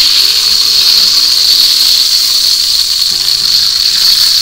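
Dry-brined chuck roast steaks sizzle steadily in a hot pan during searing and flipping, a loud continuous hiss with faint low clatter near the end.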